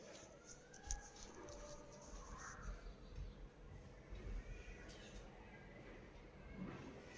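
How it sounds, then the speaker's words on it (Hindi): Birds calling outdoors, with crow-like caws scattered through a steady background hum, moderately faint and intermittent, with no clear talk over them. "अभी कहीं जो है चिड़ियों की आवाज़ आ रही है।"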